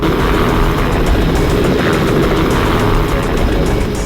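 A helicopter flies overhead, its loud, continuous rotor and engine drone filling the scene steadily with no voices.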